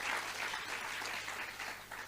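Audience applause at a national anti-corruption dialogue, a steady wash of clapping from a crowd holding at an even, moderate level through the whole stretch.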